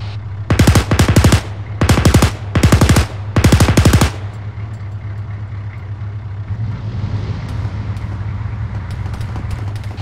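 Gunfire in ArmA 3, four loud automatic bursts in quick succession over a steady engine hum, then the shooting stops and only the rumbling vehicle noise continues.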